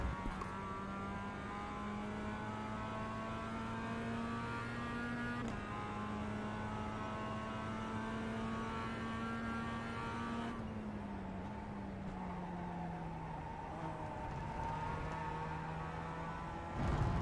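Historic race car engine at HSCC practice at Donington Park, a steady, loud in-car drone holding a high pitch for a lap. Brief dips and shifts in pitch mark gear changes and corners.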